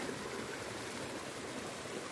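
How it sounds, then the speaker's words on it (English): Creek water flowing steadily along a forest trail near Lake Temiskaming, a soft continuous rushing wash, fairly faint and even, with no voices. "This creek is flowing opposite Lake Temiskaming to get to Porcupine Creek"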